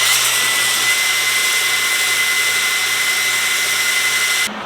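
A power tool whines steadily and loudly up close as it strips mill scale off angle iron in a blacksmith's shop, running continuously before cutting off abruptly at the end.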